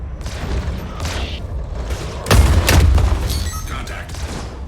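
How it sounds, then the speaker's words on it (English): A missile exploding close by during a Star Citizen heavy fighter dogfight: a loud, deep boom about halfway through, rising out of a steady engine and cockpit rumble, with spoken voices before it. "That missile was close."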